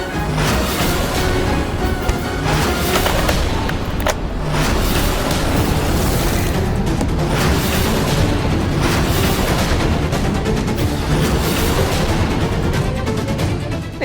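Gunfire in a Hindi TV drama scene, heard as repeated sharp booming bursts over a loud, continuous roar of chaotic background noise, with no speech rising above it.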